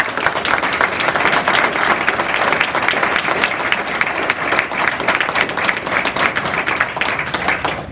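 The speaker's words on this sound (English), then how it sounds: "Let's give these guys a big round of applause" An audience at a school board meeting gives a big round of applause for students, dense steady clapping that holds at a loud, even level for the full eight seconds with no talk over it.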